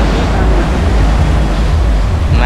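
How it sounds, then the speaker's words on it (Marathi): Sea waves crash on Candolim beach in North Goa at night, a loud, continuous roar of surf with wind buffeting the microphone throughout, and faint voices in the background. "लाटा खूप जोरात येतात नाही हा"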